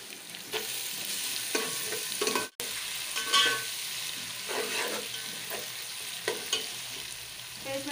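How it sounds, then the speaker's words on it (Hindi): Garlic ginger paste fries with browned onions in a pot for chana pulao, a steady close sizzle broken by scraping stirs of a spoon, with no talk. "अब हम इसमें डालेंगे पहले लहसुन अदरक का पेस्ट"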